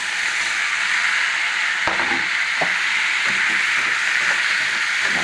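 Onions for tomato chutney fry in a pan with a loud, steady sizzle and hiss, broken by a few soft stirring clatters, and no voices over it.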